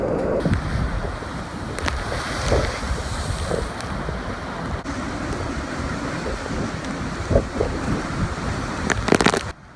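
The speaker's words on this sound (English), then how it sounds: "Huge waves, violent winds, and relentless rain, like a battle between heaven and earth." Huge typhoon waves crash amid violent gusting wind along the Kagoshima coast, a constant roaring wash broken by sharper surf bursts and buffeting wind noise on the microphone.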